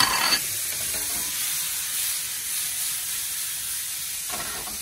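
Tomato lands in a pan of onion sofrito in olive oil, with a sharp burst at the start and then a steady, even hiss that ends in another brief burst, with no one talking.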